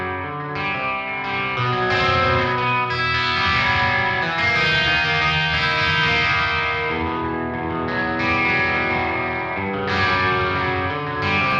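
Guitar played through a Mars Plexi VST amp simulator plugin set to low gain mode, a sustained, mildly driven chordal tone with effects-like shimmer ringing continuously and loud throughout.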